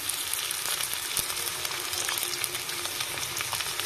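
Ginger garlic paste and coarsely crushed green chillies frying with peanuts in a pan, a loud continuous sizzle with crackling spits and occasional stirring, no voices.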